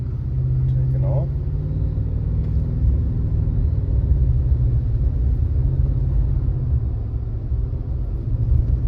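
A 2024 Toyota Tacoma TRD Pro pulling away from a stop, heard from inside the cab as a steady low engine rumble and road drone that holds fairly even throughout, with a few faint sounds inside the cab.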